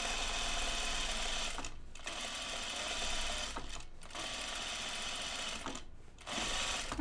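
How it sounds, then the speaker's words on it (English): A sewing machine stay stitches the waistline of a pair of jeans, running in long, steady, close whirring stretches with brief pauses between them, alone with no talk. "maybe I'll put a stay stitch in this waistline"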